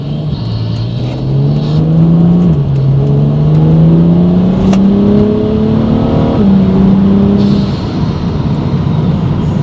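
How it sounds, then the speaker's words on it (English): A turbocharged BMW 135i accelerates under boost, its engine note climbing steadily in a loud, continuous rising whine with brief dips between gear changes, close to the microphone and with no one talking. "we're going to see if the car will buck. And if I can give it some gas"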